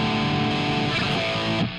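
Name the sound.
electric guitar with distortion effect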